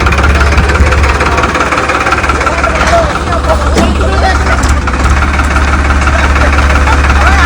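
A John Deere 3630 tractor engine idles loudly and steadily with a deep, rumbling throb, while voices talk faintly underneath.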